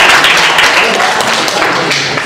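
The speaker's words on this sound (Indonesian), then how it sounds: "kasih tepuk tangan untuk kelompok 3" A biology class gives a burst of applause for a student group after its presentation, dense overlapping clapping filling the room loudly and steadily throughout.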